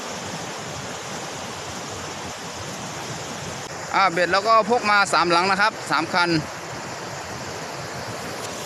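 A muddy, swollen river in the rainy season rushes with a constant broadband wash of flowing water. Someone speaks over it for a couple of seconds midway.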